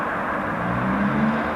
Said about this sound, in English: And what you hear is all the traffic coming from Rosslare